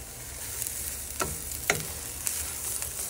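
Onions tossed into a pan over high flame, a steady hissing fry with a couple of sharp clacks and stirring taps, moderately quiet and without talk.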